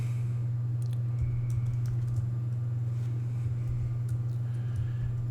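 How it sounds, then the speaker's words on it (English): Fingers tapping on a computer keyboard, quick irregular clicks close by, laid over a steady low electrical hum with no talking. "I'm going to go ahead and type this information here."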